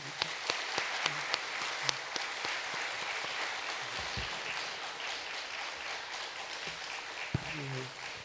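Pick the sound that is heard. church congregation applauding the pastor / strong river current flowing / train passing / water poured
church congregation applauding the pastor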